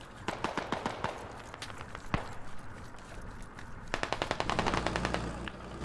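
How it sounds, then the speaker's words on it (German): Fully automatic bursts from an M4 rifle in the game Squad, sharp rapid cracks in two clusters with a lone louder shot between, fairly close amid a busy battlefield backdrop. "M4, vollautomatisch."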